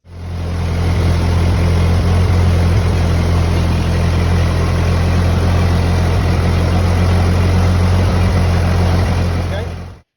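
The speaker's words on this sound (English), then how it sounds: "we'll see what it's like when we run the tractor" A 1948 Ford 8N tractor engine runs at a steady idle, loud and close, with a continuous low, throbbing hum that holds unchanged for about ten seconds with no voices.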